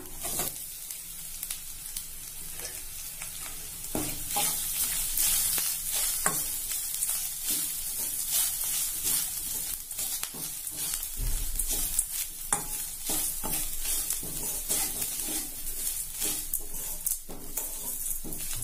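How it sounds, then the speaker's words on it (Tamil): Spices and grated coconut fry and crackle steadily in a hot pan for vatha kuzhambu, a dense continuous sizzle with intermittent scraping stirs of a spoon against the pan, close and loud, no talking. "இப்ப இதெல்லாம் கொஞ்சம் பொரிஞ்சிட்டு இது கூட தேங்காய் துருவல் போட்டுக்கலாம்."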